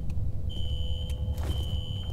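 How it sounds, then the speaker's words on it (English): Fire alarm triggered in a security office in the video game F.E.A.R. rings as a steady high electronic tone over a low rumbling background, fairly quiet and continuous, with no talk. "A fire alarm. It was triggered at a security office on that floor."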